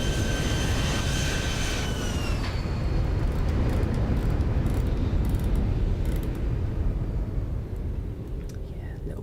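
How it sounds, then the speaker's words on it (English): A Ryanair Boeing 737-800 lands in the X-Plane 11 flight simulator, its jet engines giving a steady, loud roar throughout with a fading high whine early on. A voice talks over part of it. "Right, here comes the aeroplane."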